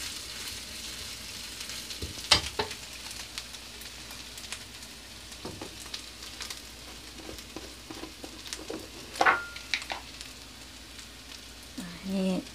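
Chili sizzles and fries in a pan with dried shrimp, a steady crackling hiss broken by sharp stirring scrapes and pops, close and moderately loud.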